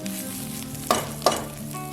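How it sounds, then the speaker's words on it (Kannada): Grated onion frying in oil for a dhaba-style paneer curry, a dense even sizzle with two sharp stirring clacks about a third of a second apart. "ಇದನ್ನು ತುರಿದ್ಬಿಟ್ಟು ಫ್ರೈ ಮಾಡಬೇಕು"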